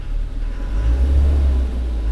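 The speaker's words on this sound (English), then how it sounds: "The engine's running right now." A Land Rover Discovery's 300tdi diesel engine idles steadily with a low, heavy rumble, loud and close, with no talking over it.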